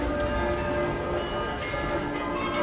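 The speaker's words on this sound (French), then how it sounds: "Le carillon." Carillon bells of Munich's New Town Hall tower ring on steady sustained tones over a dense wash of crowd and street noise, heard from a distance.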